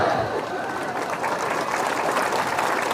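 Dense crowd applause at an outdoor political campaign gathering in Gunung Sari, Indonesia, a loud continuous wash of clapping hands held steady for a few seconds.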